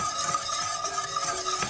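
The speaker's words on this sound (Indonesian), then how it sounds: "Kita terus aduk seperti ini. Saya pakai whisk di sini biar lebih gampang." Milk whisked into a bechamel sauce for baked spaghetti: a steady, close, busy swishing and scraping that carries on without pause and with no voices.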